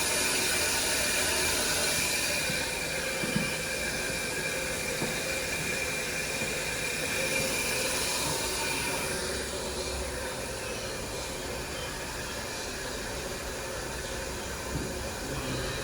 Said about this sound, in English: 2012 Chevalier Smart B818 number 2 CNC surface grinder. Running the slicing program right now.